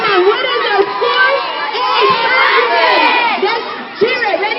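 Schoolchildren at an elementary school assembly cheer and shout together in a loud, sustained crowd roar, with overlapping young voices rising and falling throughout.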